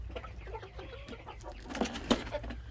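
Hens and roosters cluck and murmur in a steady flock chatter, with a couple of louder, sharper calls standing out near the end.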